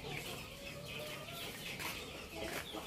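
Four-month-old Plucker-breed chickens cluck and murmur close by in a farm setting, a steady low chorus of bird calls with no speech.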